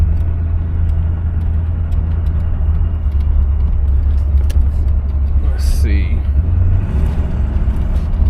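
A 1966 Cadillac Coupe de Ville on wide whitewall tires gets under way, its big engine giving a steady low rumble throughout with someone speaking briefly over it.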